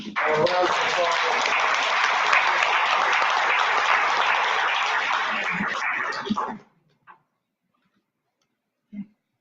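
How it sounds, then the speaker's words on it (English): Audience at a public meeting on redistricting bursts into sustained applause for several seconds, full and steady, then it cuts off, followed by a couple of faint, brief sounds. "So I'd like to give Marcia a round of applause."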